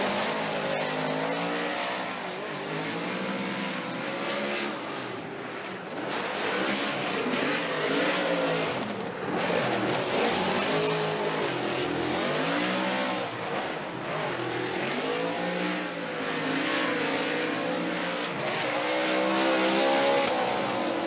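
Ford Performance Mustang RTR Spec 5D drift car at a Formula Drift battle, its engine revving hard and wailing through rising and falling pitches while tires squeal continuously, loud and close throughout.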